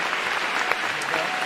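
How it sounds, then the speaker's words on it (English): Audience applause welcoming a guest to the stage at a live on-stage conversation event, a steady dense wash of many hands clapping at moderate level throughout, with no pauses. "Give a round of applause and let me welcome you to the stage."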